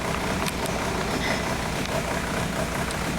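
A VW TDI diesel engine with a slow-down shudder runs steadily at a low, even drone, fairly quiet and continuous with no voices over it.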